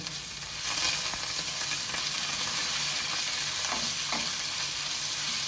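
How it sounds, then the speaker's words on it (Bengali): Spice masala with turmeric and chilli powder fries in a pan with a loud, dense sizzle, steady throughout with occasional scraping strokes of a spatula, close by and free of speech. "অল্প পরিমাণ হলুদ গুঁড়ো দিয়ে এবার মশলাটাকে আমি ভালো করে আবারও ভেজে নেব"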